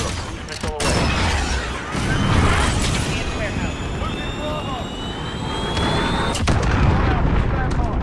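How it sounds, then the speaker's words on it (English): Precision airstrike explosions in Call of Duty Modern Warfare multiplayer: dense booming blasts and gunfire roll continuously under jet engine roar, with sharp loud impacts near the start and again toward the end, mixed with radio voice chatter. "Be advised, friendly precision airstrike inbound."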